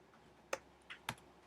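Keys being typed on a computer keyboard, three soft, quiet clicks spaced unevenly over a moment, close and isolated with no voice.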